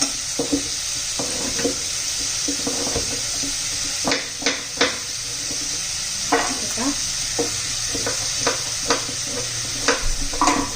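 Potatoes fry in a pan alongside tomatoes for a fresh-pea veg pulao, with a constant sizzle broken by repeated scraping and clattering knocks as the mixture is stirred.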